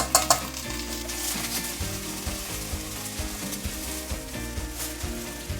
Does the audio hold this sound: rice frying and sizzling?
yes